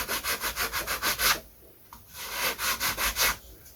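Hand sanding a wooden glider wing, quick rhythmic back-and-forth rubbing strokes close by, a short pause, then another run of even strokes.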